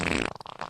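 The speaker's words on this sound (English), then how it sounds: "Bro, that fart sounded wet." Wet fart sound effect, a short buzzy blast that breaks into a sputtering, bubbly flutter before trailing off, heard alone and up close.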